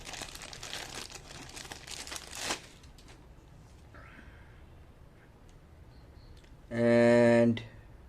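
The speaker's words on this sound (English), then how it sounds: "I'm gonna remove all these stickers and everything." Plastic stickers being peeled and crinkled off the packaging of a Citizen Navihawk AT JY8035-04E watch, a close dry crackling for about two and a half seconds, then quiet with a faint voice and a brief loud tone near the end.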